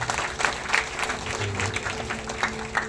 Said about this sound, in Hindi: ताली बजाएंगे अपोस्टल के लिए